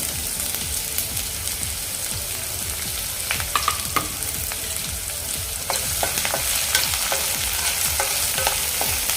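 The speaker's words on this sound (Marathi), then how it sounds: "तर आपला कांदा गोल्डन ब्राऊन होईपर्यंत आपण हे फ्राय करून कांदा भाजून घेऊ" Finely chopped medium onion fries with crackling cumin in a pan toward golden brown for lapshi upma, a continuous near sizzle broken by frequent spatula scrapes and stirring taps.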